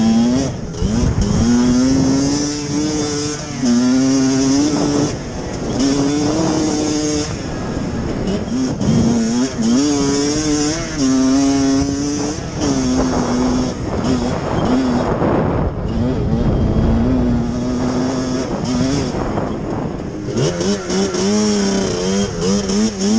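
A Yamaha YFZ450 ATV fitted with a Banshee two-stroke engine is ridden hard on trails, its loud, raspy engine revving up and down repeatedly and continuously up close.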